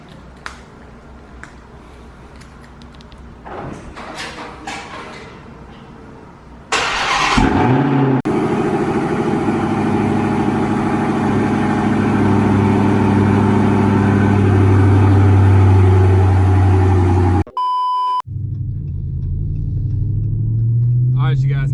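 A 2021 Dodge Charger Redeye is cold started: handling noises, then the engine fires with a loud surge and settles into a deep, steady rumbling idle, briefly interrupted and continuing under faint talk.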